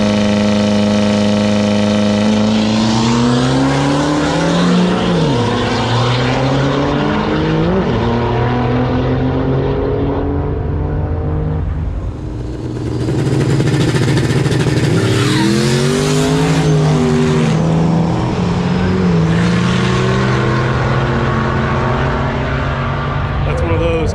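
An LMM Duramax diesel pickup with XG 300% injectors, a Bullseye NLX 83mm turbo and a 48RE transmission, racing at a King of the Streets event, revs loud and close with turbo whine, spinning tires and a slight lull mid-run, while voices talk over it.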